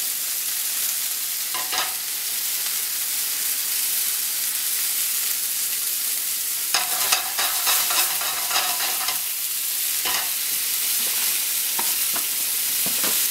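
Garlic and herbs fry in a pan for chicken marsala, giving a constant soft sizzle broken by a few bursts of stirring and scraping.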